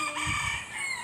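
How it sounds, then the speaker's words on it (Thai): A rooster crows loudly and close by, one sustained, wavering call with no other sounds. "เสียงไก่นี่ก็ขันดีจังเลยเนาะ"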